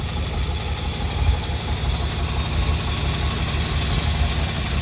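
A 1969 Jaguar E-Type Series II roadster engine with dual Zenith carburetors idles in a smooth, steady low rumble, close and constant throughout with no talk.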